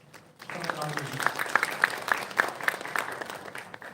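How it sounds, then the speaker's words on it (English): Audience applause at an inaugural ceremony of an international law college conference, a patter of distinct claps that builds and fades within a few seconds, with a voice briefly audible near the start. "a round of applause from the audience"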